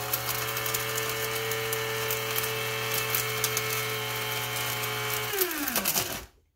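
An electric spice grinder grinding fennel seeds: a steady high-pitched motor whine with gritty rattling of seeds, loud and close, winding down as it switches off at the end.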